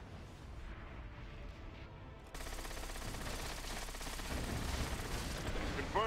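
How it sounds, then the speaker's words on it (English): Torpedo rockets fired at ships in World of Warcraft, a dense, continuous roar of gunfire-like blasts and explosions that grows louder and fuller after a sudden jump partway through. "Use your torpedo rockets on those ships."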